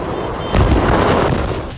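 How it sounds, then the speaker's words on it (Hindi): A deep boom rolls out from a blast at a fireworks factory in Harda, followed by sustained rumbling and crackle, loud and heavy, with no voices. "एक के बाद एक धमाकों से धरती भी कांप रही थी"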